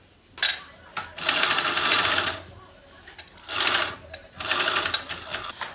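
Sewing machine stitching darts in fabric at a quarter-inch seam allowance for a bag, running in two long loud bursts separated by short pauses.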